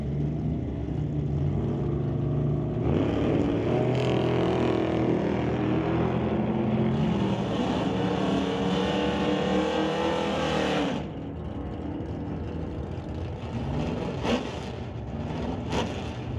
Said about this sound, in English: Derek Shirk, next one up in the Titanium Auto Group Blazer, dialed at 1083, racing against Sean Langley, dialed at 1167